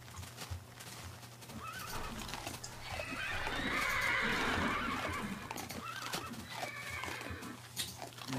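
Horses from the Minecraft Mo' Creatures mod whinny in a long, rising neigh over repeated clip-clop hoofbeats, with a steady low game hum running underneath and a few softer animal calls nearby.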